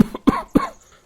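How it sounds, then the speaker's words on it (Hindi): A man coughs three times in quick succession, harsh and close, after eating overly salty food at a family meal. "तभी ससुर के ज्यादा नमक खाने से खांसी आ जाती है।"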